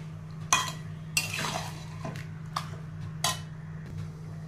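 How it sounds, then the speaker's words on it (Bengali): Bowl of leftover yogurt being rinsed with a little water and stirred in a home kitchen, with several sharp utensil clinks and scrapes against the bowl over a steady low hum. "দই বাটিতে অনেক দই লেগে আছে, তাই একটু জল দিয়ে দইটা বাটিটা পুরো গুলিয়ে নেবো।"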